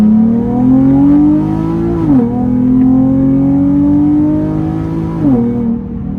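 A Nissan 370Z engine with an aftermarket exhaust and test pipes revs loudly and close, holding a high droning pitch, then dipping briefly before climbing again, twice.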